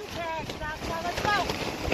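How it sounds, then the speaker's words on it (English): Strong wind gusting outdoors during a storm at a family reunion in Meadowview, a continuous rough buffeting roar against the microphone with tonal whistles and a voice faintly mixed in. "It'll go with the freaking wind."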